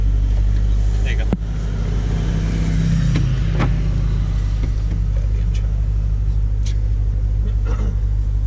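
A Jeep Trackhawk launches with a deep, loud, sustained engine rumble and a few sharp clicks and knocks.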